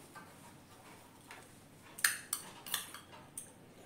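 Spoon clinks against a bowl while soaked sago is stirred with a couple of drops of food colour, a few sharp taps and scrapes standing out in a quiet kitchen.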